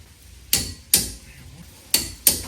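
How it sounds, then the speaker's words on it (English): A torque wrench clicks as it tightens brake caliper bolts to 85 foot-pounds during a budget big brake kit upgrade on a New Edge Mustang GT. Four sharp, close metallic clicks come in two spaced pairs, with no talking. "So these get torqued to 85 foot-pounds."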